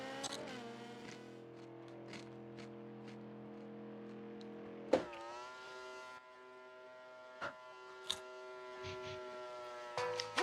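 A V8-sounding car engine in a racing video game drones with a steady tonal hum, shifting pitch as gears change, with a few sharp clicks and taps over it.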